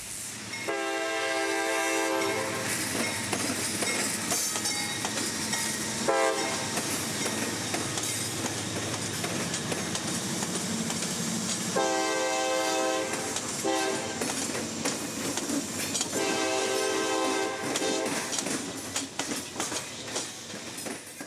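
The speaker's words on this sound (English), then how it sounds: "I always love seeing trains cross here, especially in noontime daylight like today, as L755 rounds the bend into view." A single-engine freight train, L755, rolls through a crossing in Central Florida, its loud horn blaring in several long blasts over the steady rumble and clatter of wagons passing close by throughout.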